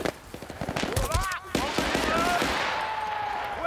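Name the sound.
gunfire in video game Battlefield Bad Company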